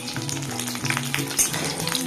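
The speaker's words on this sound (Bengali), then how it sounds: "তারপরে বড়াগুলো এবার একটা একটা করে ভেজে নেবো" Bora fritters frying in oil, a close crackling sizzle running throughout with a low background hum and a faint knock midway.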